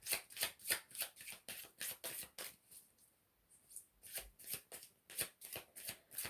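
A deck of tarot cards is shuffled close by in quick riffling bursts, with a short pause midway before the rhythmic flapping resumes.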